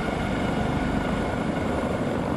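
Simulated Eurocopter AS565 helicopter in X-Plane 11 over Manhattan, a steady loud turbine and rotor drone that holds constant throughout with no other sounds.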